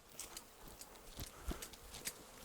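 Cows on a farm shuffle past, their hooves making soft, irregular clopping steps that sound faint and somewhat distant in a quiet outdoor setting.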